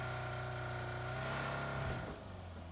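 A video game vehicle engine drones steadily with a rising rev, loud and close, then drops to a lower idle near the end; no talking.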